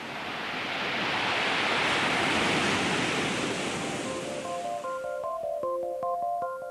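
A wave surges and rushes up a shingle beach on Romney Marsh in a broad hiss, then drags the shingle back with a rattling wash, while a few faint tonal sounds come in near the end.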